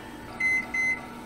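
A microwave oven gives two short, clear electronic beeps in quick succession, close by in a quiet kitchen.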